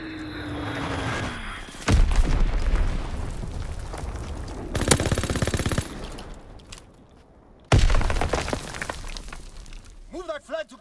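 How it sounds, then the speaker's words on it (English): Heavy blasts and crashing impacts from a Fritz X bomb strike in a Call of Duty battle, two loud broadband bursts with long rumbling, crackling tails and a quieter gap between them. "Fritz X bomb mission underway!"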